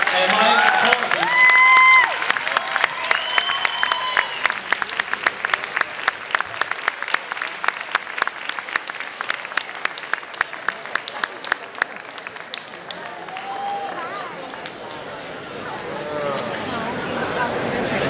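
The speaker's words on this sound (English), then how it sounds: "round of applause for them" Audience at the 2013 Miss World Canada show bursts into loud, sustained applause with scattered cheers, the dense clapping slowly thinning out toward the end while a host talks over it.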